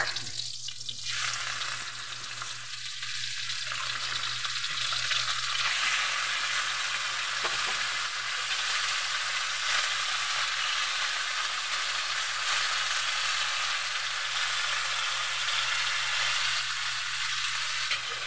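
Pork for adobo fries in a pan, giving a loud, constant close-up sizzle that runs unbroken throughout, with faint scraping from occasional stirring underneath.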